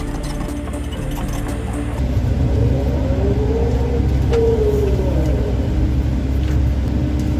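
SDLG E6135F excavator working and digging on farmland; a loud, continuous close engine rumble with hydraulic whine that rises and falls, stepping up in level after a couple of seconds.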